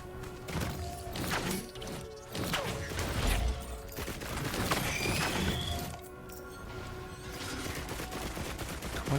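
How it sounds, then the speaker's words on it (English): Gunner turret firing in the video game Risk of Rain 2, rapid bursts of gunfire in a dense, busy game mix with crashing impacts and effects, fairly loud and continuous. "Shoots gunner turret."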